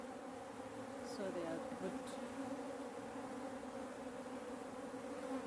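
African honey bees hum steadily at a hive in a faint, continuous droning buzz, with a few individual bees passing close, and a voice speaks softly.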